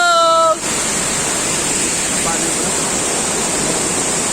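Kilangin Falls waterfall roaring as a loud, steady wash of white noise that fills the scene after a brief opening moment of other sound.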